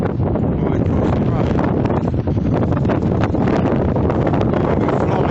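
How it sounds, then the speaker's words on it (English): Strong gusting wind in Reykjavik, Iceland, roaring and buffeting the microphone loudly and continuously throughout, with a faint voice partly buried beneath it. "Wind is picking up and it takes off our feet."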